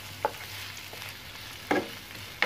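Chopped onions sauteing in a pan under a steady low sizzle, with three sharp spatula scrapes against the pan as they are stirred, the last two louder.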